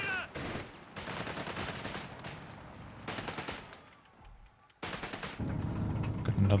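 Machine gun fire from a Company of Heroes 3 World War II match rattles in long sustained bursts with short gaps between, loud and close, under a commentator's voice.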